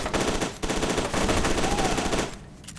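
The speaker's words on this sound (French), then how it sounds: "Donc je peux vraiment rafaler quoi" Sustained machine gun fire in the first-person shooter F.E.A.R. 2, a dense, loud, rapid stream of shots with a brief break, then continuing before cutting off near the end.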